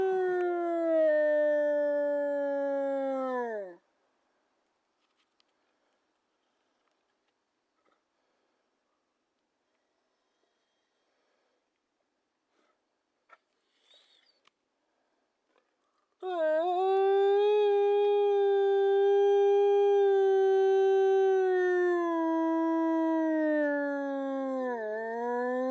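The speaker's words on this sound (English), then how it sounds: "Grizzer, low-throated howls, they typically mean separation issues" Captive wolves give long, low-throated howls in two drawn-out bouts, each a sustained wavering tone that slides slightly in pitch, separated by a long quiet gap with a few faint knocks.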